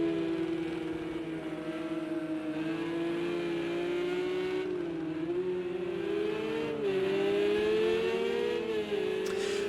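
Porsche race cars lapping Silverstone in a racing video game, a steady engine drone with rising and falling revs and gear changes, loud and continuous with no talk.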